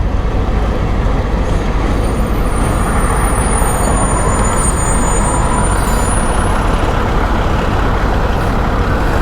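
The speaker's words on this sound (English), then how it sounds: "Thank God that's the garbage truck." A garbage truck grinds close by with a heavy, continuous engine rumble, and a high air-brake hiss rises and sweeps briefly partway through, with no talking.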